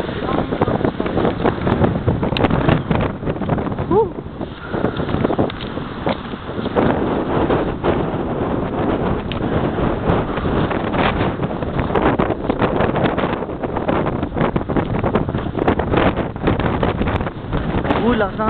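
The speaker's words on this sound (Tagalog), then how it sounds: "Lakas ng hangin." Strong wind buffets the microphone with a steady, loud roar throughout, and voices talk intermittently underneath.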